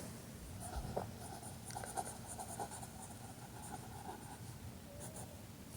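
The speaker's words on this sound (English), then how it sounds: "I'll write that down." A pen scratches on paper while someone notes sales at a market prep table, quiet intermittent strokes and small taps close by with faint background hum.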